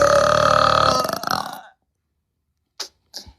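A long, loud, croaking burp lasting over a second and fading out, followed by silence and a couple of brief faint sounds.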